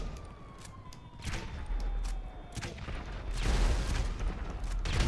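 Bursts of gunfire in GTA Online, rapid volleys of shots that come in clusters and grow denser toward the end, with a faint siren-like tone sliding underneath.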